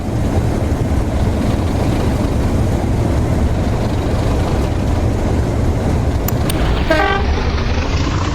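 A railhead treatment train departs a station in a train simulator, a loud steady rumble of diesel engine and wheels throughout, with a short horn toot near the end.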